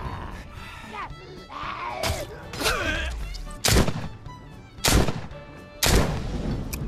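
Sharp gunshots in The Walking Dead: Saints and Sinners crack out one at a time, four loud reports spaced roughly a second apart, while someone talks and groans between them.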